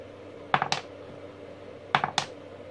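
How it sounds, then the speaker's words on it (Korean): An AA or AAA battery dropped from about 5 cm onto a hard floor, twice, each drop giving a quick pair of sharp clicks as it bounces. The clicks are close and crisp over a quiet room. "바닥에 떨어뜨려 보면 알아요"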